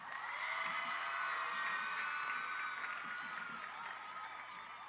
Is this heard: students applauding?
yes